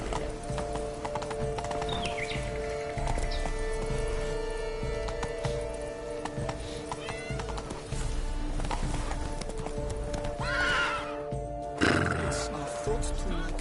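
Roach, Geralt's horse in The Witcher 3, clip-clops steadily at a trot and lets out two loud neighs late on, over game music and ambient sound, with a voice speaking briefly.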